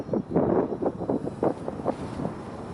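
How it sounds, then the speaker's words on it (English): Wind buffeting a microphone outdoors, a continuous loud rumbling roar with gusty surges and no voices. "The wind's picking up a little bit here"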